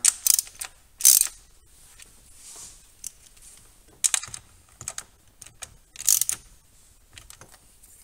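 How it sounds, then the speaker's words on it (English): A torque wrench ratchets as valve cover bolts are tightened on a VW Golf mk4 TDI ALH engine, bursts of crisp clicking repeating in short separated sets, close and clear with quiet pauses between. "Let's go ahead and torque these down."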